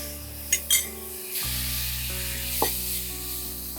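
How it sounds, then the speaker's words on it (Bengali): Spice masala sizzling and frying steadily in a pan as it is sautéed for a Bengali doi lau (bottle gourd in yogurt), with a few sharp clinks and scrapes of a spoon against the pan over the continuous hiss. "কষাচ্ছ একটু ভালো মশলাটা করে"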